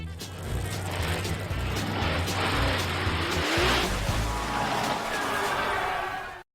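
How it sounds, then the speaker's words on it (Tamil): A monster truck on big, tough tyres drives hard, its engine roaring loud and steady with some tyre noise throughout, the sound close and continuous before cutting off abruptly. "monster drugs"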